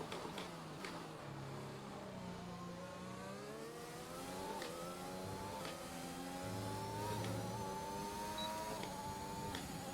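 An F1 car engine in the F1 2021 video game on a hot qualifying lap at Bahrain, revving high and whining through repeated upshifts and downshifts, with the pitch climbing and dropping over several gear changes.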